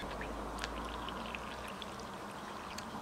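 Water poured into a sourdough starter along with flour, heard as a steady, faint, continuous trickle close by with no talking.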